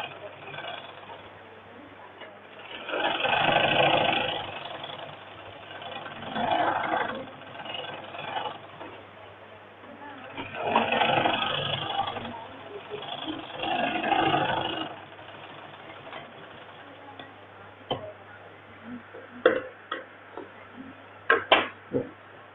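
A sewing machine stitches a men's shirt in several separate bursts of rapid mechanical whirring. Quieter pauses fall between the bursts, and a few sharp ticks and clicks come near the end.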